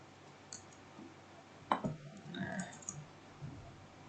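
A few sharp clicks, most likely from a computer mouse, with one louder click near the middle and quieter ones spread around it, over a faint hum of background noise.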